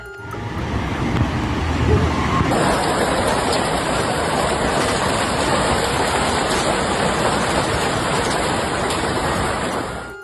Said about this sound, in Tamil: தென்கிழக்கு குயின்ஸ்லாந்தின் பல பகுதிகளில் ஆலங்கட்டி மழை பெய்து அந்த நகரை அச்சுறுத்தி வருகிறது